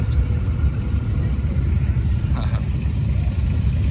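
A rat rod car's engine gives a steady, low, rumbling drone at a car show, continuous and moderately loud throughout with no clear revs.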